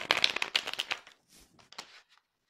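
Tarot cards being shuffled and drawn by hand, a dense burst of crisp riffling and snapping card sounds close up, thinning into a few softer slides and taps.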